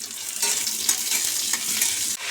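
A small chopped onion frying in mustard oil, giving a dense, steady sizzle with light stirring scrapes, close and continuous for a couple of seconds.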